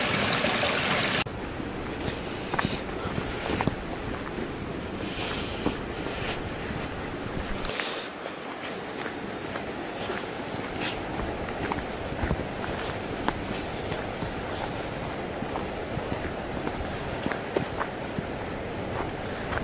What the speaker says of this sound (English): isn't it beautiful to see all these waterfalls running so far?